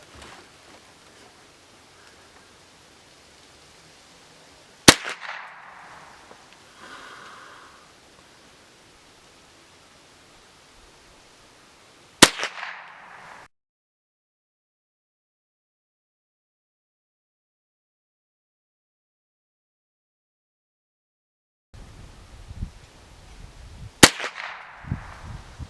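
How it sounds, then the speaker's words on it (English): An RIA M22 rifle fires from a rear rest: three sharp, loud shots, each widely spaced and followed by a short decay. Near-silent gaps fall between the shots. "We'll put a few rounds down range and see how she operates."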